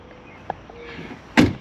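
A single solid thump of a car door shutting close by, preceded by faint clicks and rustling in an otherwise quiet space.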